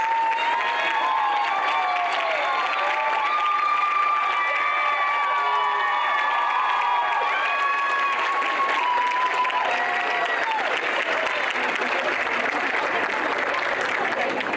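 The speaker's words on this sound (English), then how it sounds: "we will give you a big round of applause" Sustained applause from a large audience at a nursing pinning ceremony for graduating students, a dense even roar of clapping mixed with cheers and voices, holding steady for the whole stretch.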